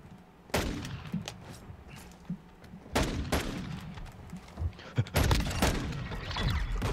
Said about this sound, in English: Did I kill him with the flashbang?